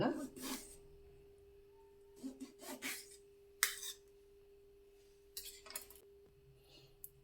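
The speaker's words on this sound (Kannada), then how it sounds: "ಈ ಥರ ಚಿಕ್ಕದಾಗಿ ಕಟ್ ಮಾಡ್ಕೊತೀನಿ" Lemons being chopped into small pieces with a knife, a few scattered bursts of quiet rasping cuts and board knocks with pauses between them, against a low steady hum.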